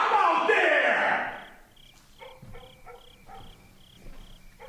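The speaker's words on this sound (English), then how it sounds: "God damn these crickets." Crickets chirping outside in a regular pulsing rhythm, fairly faint and steady, following a loud burst of broadband noise at the start.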